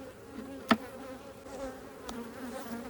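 Honey bees hum softly and steadily around an open hive with drawn wax on foundation, a faint continuous buzz with one sharp close pass near the start and quieter passes later.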